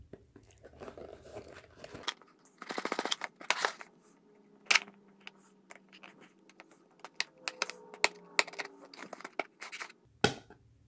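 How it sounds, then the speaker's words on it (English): A pen punched through a cardboard box: a series of sharp crinkly cracks and scraping crunches, close and dry, in bursts with quiet gaps between. "I just poked a hole in the box."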